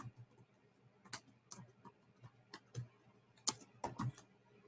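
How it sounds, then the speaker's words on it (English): Keys on a computer keyboard are tapped in quiet, irregular bursts of sharp clicks, soft and close in an otherwise hushed room. "I'm going to type in Resonant Essentials."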